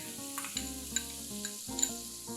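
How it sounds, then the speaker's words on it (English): Chopped onion sautéing in oil with cumin, asafoetida and turmeric in a pan, a soft continuous sizzle heard faintly beneath steady background music, no speech. "Let's saute the onions for a minute."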